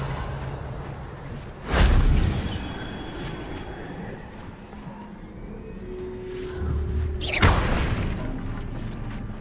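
Casting Revelio in Hogwarts Legacy gives a bright whooshing burst with a low boom, and a second similar burst follows several seconds later over a quiet, hovering ambient bed.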